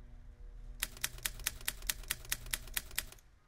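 Rapid, evenly spaced mechanical clacks like a typewriter from a Roblox horror game, about a dozen keystrokes in a quick run, crisp and fairly close, with no talking.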